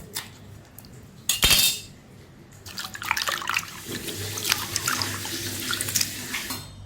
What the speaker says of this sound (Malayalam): നമുക്കിത് ഒരു വെള്ളം കൂടെ ഒന്ന് കഴുകി